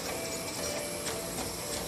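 A CraftBot 3D printer printing caps, giving a steady whirring hum of stepper motors with faint high-pitched whines and light ticking, close by and continuous, with no talking.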